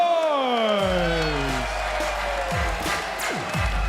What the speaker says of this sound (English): the London boy has the fans and crowd on their feet